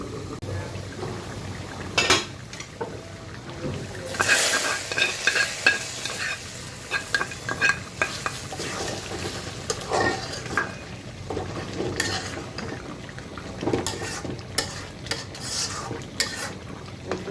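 Fried onions go into a pot of village-style chicken curry and are stirred in: a soft, steady sizzle of frying punctuated by intermittent scraping strokes of a spoon against the pot and occasional clinks.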